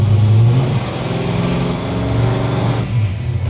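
Big block 396 V8 in a truck with a Turbo 400 transmission and Edelbrock Pro-Flo 4 multi-port fuel injection, revving loud and close, the rumble swelling and easing with a steady throttle, no voices.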